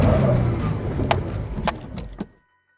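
A lifted Jeep engine accelerating as it crawls over a trail obstacle: a close, low rumble with metallic clinks and rattles that tapers off and stops abruptly.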